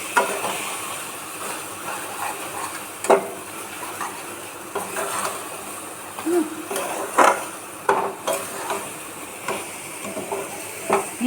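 Food in a cooking pot, finished with coriander leaves, is stirred with a utensil. Irregular clinks and scrapes against the metal sound over a faint background sizzle.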